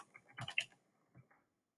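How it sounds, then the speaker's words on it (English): Quiet typing on a computer keyboard: a few soft, close key clicks clustered in the first half-second, then two more taps before silence. "And then if I keep typing,"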